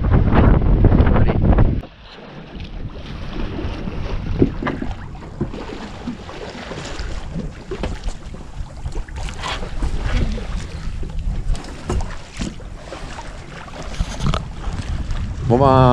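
Sailboat running under sail at high tide near the Arzal area, with steady broadband wind rush and water noise throughout, a louder burst at the start before settling into continuous hissing wind over the hull.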